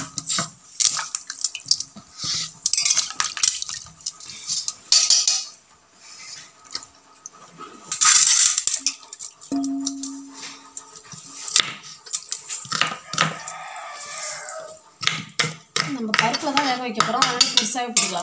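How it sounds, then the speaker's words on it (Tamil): Onions and tomatoes are washed in a village kitchen, with running water, splashing and clattering dishes and utensils coming in irregular bursts close by. "வெங்காயம் கொஞ்சம் வெங்காயம் தக்காளி எல்லாம் கழுவிக்கலாம்"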